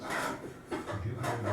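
A hand plane shaves the wooden miter of a cherry table stretcher in two or three short rasping strokes, close and quiet.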